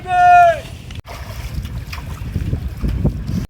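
Wind blows across an open wetland as rain approaches, rumbling in gusty, buffeting waves against the microphone, briefly cutting out and returning. A short tonal voice-like sound comes at the start.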